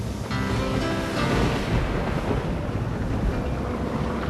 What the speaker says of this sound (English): this was getting to be a really big storm